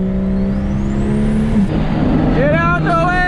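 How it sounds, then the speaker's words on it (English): A single-turbo BMW 335i pulls hard with a rising engine note, then lifts off into a rapid fluttering chatter from the turbo, loud and close over steady road roar. "Ooh, that turbo flutter."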